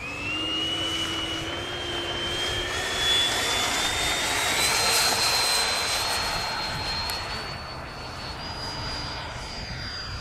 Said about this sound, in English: Try to practice a little bit slower scale takeoff.